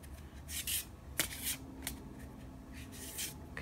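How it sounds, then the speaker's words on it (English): Tarot cards are shuffled by hand in close, quiet, repeated bursts of riffling and rubbing, soft and irregular with brief pauses between passes. "I'm just gonna shuffle it just a bit more"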